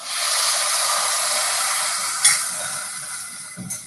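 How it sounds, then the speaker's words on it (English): Stock poured into a hot pan hits with a loud, steady sizzle that slowly fades, followed by a faint clink near the end. "Hear that sizzle."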